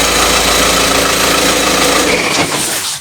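An Audi TDI diesel engine runs with a loud, steady clatter, then is switched off, dropping to quiet in the last half second.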